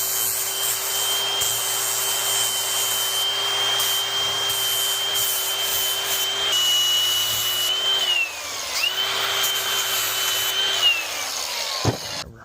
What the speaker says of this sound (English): I'm gonna just grind this away a little bit so it's gonna fit in there